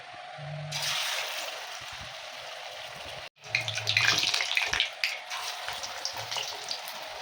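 Pumpkin leaf fritters coated in gram flour batter sizzle in hot oil, a soft hissing crackle that cuts out briefly midway and then returns with bubbling pops, fairly close, with no voices.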